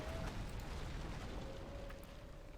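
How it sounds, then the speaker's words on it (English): Dwarven barrage explosions in Battle for Middle-earth, a dense, steady rumble of blasts and crackling debris that holds loud throughout, with no clear separate impacts. "barrage being used by the dwarven player"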